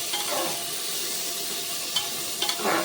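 Onion, tomato and garlic paste frying in a pan gives a steady broadband sizzle, with a few soft stirring scrapes near the end and no voices.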